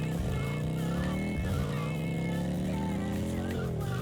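Police-style motorcycle resembling a boxy, heavily faired Harley in GTA Vice City Stories, its engine humming steadily with a rising whine as it accelerates, loud and close.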